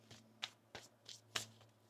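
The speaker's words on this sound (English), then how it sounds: "One more shuffle." Tarot cards are shuffled up close in a quiet room, four or five short, soft riffling bursts spaced about a third of a second apart over a faint hum.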